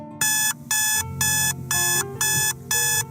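An electronic alarm on a Super 7 Masters of the Universe Classics Stridor action figure sounds in six loud, evenly spaced bursts of piercing tone, with no talk.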